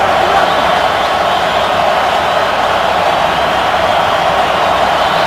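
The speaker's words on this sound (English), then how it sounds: "Crowd is revved up on a 3rd and 6 for Seattle." Loud, steady roar of a stadium crowd at an NFL game, Seattle Seahawks at Carolina Panthers in 2014, building on a third down, a dense unbroken wash of noise with no pauses throughout.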